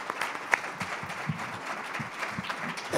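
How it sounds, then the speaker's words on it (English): Conference audience applauding panelists after a session, a steady wash of many hands clapping at moderate loudness for a few seconds with a few sharper claps standing out. "let's have a round of applause for our panelists."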